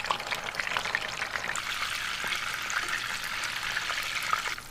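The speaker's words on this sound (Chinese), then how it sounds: "烧油，把冬瓜放到里边， 用小火把它炸的两边冒泡就可以了" Slices of winter melon fry in hot oil over low heat, giving a soft, even bubbling and crackling hiss that runs steadily with scattered small pops.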